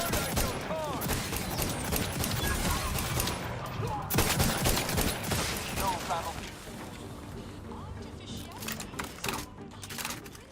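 Sniper and other weapon gunfire in the video game The Outer Worlds 2, dense bursts of rapid shots and blasts, loud and near, with someone talking over parts of it.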